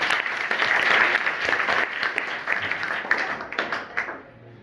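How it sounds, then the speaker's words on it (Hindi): A school class in Kerakat, Jaunpur breaks into a burst of hand clapping, a dense, loud round of applause from many hands that rattles on for about four seconds before cutting off. "एक बार ताली बजा दीजिए"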